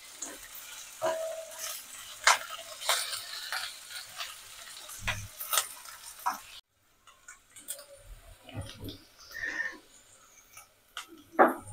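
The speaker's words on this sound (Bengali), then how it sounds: "একটু হালকা করে ভেজে নেবো এগুলো, যাতে কাঁচা গন্ধটা চলে যায়।" Mixed vegetables frying lightly in a pan, with quiet crackling sizzle and intermittent scraping and clicks of a spatula, close and faint, pausing briefly midway.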